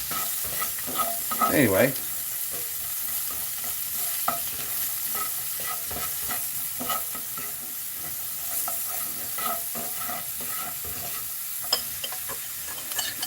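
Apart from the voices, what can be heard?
onions sauteing in a pan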